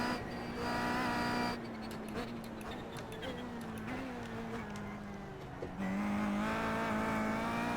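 A Kia Optima race car in iRacing at Bathurst, its engine droning loudly and shifting pitch as the revs fall under braking, then rising again, steady and close with no break.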